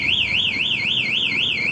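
Motorcycle alarm fitted to a Honda Vario 2025 scooter, sounding a loud, steady electronic siren that wobbles up and down in pitch in quick regular cycles, close by and alone.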